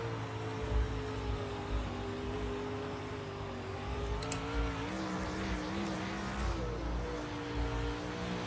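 A race car engine revs steadily under green-flag throttle on a racing circuit, its harmonic drone rising and falling in pitch throughout, loud and continuous with other cars audible around it.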